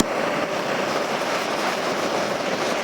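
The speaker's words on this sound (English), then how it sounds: "you're just going to take your blowtorch, just going to torch it." A blowtorch flame roars steadily and loudly while torching a wooden wine bottle holder, a continuous broadband hiss with no pauses and no talk.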